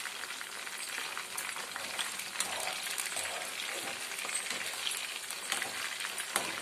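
Chicken manchurian pieces frying in hot oil, a dense steady crackling sizzle with scattered sharp pops, close and continuous with no talking.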